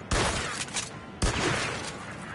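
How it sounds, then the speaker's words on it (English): Shotgun blasts in the video game Mafia II Definitive Edition: two sharp, loud booms about a second apart, each followed by a short rumbling tail and debris clatter, with no talking. "What the fuck is he shooting from with the shotgun?"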